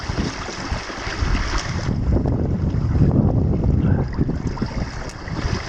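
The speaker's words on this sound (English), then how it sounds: "The wind's changed and picked up" Strong wind roars over a Hobie sailboat out on the water, a loud continuous rush with wave wash and gusty buffeting of the microphone, no voices.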